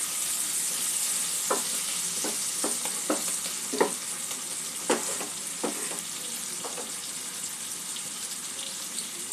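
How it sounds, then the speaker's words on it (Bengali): Katla fish curry with vegetables is stirred in a pan, under a steady soft sizzle. A utensil scrapes and clicks against the pan at uneven intervals, close by and moderately quiet. "সবকিছু একটু মিক্স করে দেবো।"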